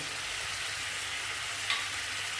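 Vegetables and paneer pieces frying in a pan over a low flame: a steady, close hiss and sizzle with a faint scrape of stirring near the end, and no voices.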